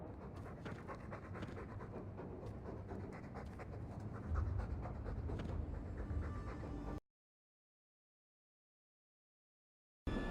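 A dog in the game Dragon Age II panting steadily and quietly, with quick rhythmic breaths close by for about seven seconds, then silence before a brief return at the end.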